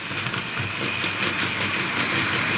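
A Tri-ang Super 4 model 4MT tank locomotive runs on a model railway layout, hauling a few wagons at a steady, unhurried pace, giving a continuous close whirring motor hum with faint rail clatter throughout.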